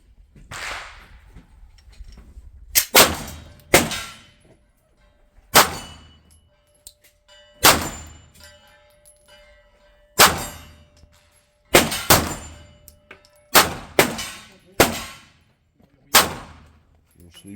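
Bullets strike steel gong targets at a shooting range, giving about a dozen sharp metallic clangs, some as quick doubles, each with a ringing decay, spaced irregularly across the stretch with faint talk in the background.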